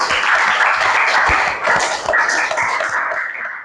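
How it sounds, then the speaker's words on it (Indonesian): A crowd claps steadily and loudly, a dense burst of applause from many hands that holds, then slowly thins out. "tepuk tangan buat semuanya"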